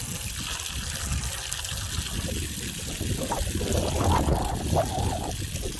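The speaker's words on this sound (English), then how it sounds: "probably enough of you watching me put water in that trough" Water runs and splashes steadily into a pig trough outdoors on a hot, windy day, a continuous gushing trickle heard close up with wind noise throughout.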